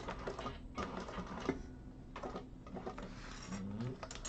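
A sewing machine basting the raw edge of a vintage handbag, its quiet mechanical whirring running in short spurts separated by brief pauses.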